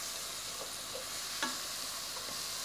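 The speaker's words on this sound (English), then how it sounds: "I can start to scrape that off the bottom of the pan." Spoon scraping and stirring flour through fat in a pan for green bean casserole, with a soft faint sizzle, a few light scrapes and one sharper clink near the middle, no talking.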